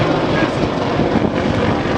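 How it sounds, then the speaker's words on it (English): Apache helicopter gunship engines roar at an airshow during a simulated attack run, a loud, continuous close engine and rotor noise that stays steady and broadband throughout. "The Apache are now using its powerful turbomecha engines to accelerate to up to 140 knots"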